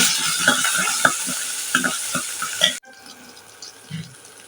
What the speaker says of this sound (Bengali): আদা রসুনটা একটু ভালো করে ভেজে নেব